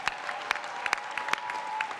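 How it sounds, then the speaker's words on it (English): Audience applause at a Youth4Climate plenary session, a steady patter of many hands clapping with sharp individual claps standing out, fairly close and continuous for about two seconds with no talk. "a warm round of applause to each of them that are here today"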